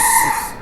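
A chicken crows loudly and close, a brief, bright, strained call that fades out at the end.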